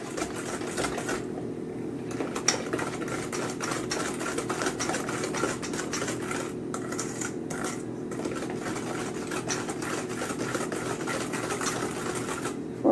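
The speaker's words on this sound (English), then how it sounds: "You can even use the hand mixer" A hand mixer whirs steadily through zucchini bread batter, a continuous motor drone with a faint rattle of beaters against the bowl, running unbroken and close without any talk.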